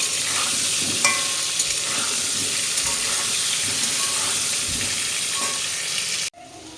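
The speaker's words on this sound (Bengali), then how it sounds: "লবণ হলুদ দিয়ে আলুটা ভাজছি" Potatoes fry in hot oil with salt and turmeric, giving a steady close sizzle with occasional stirring scrapes before it cuts off abruptly near the end.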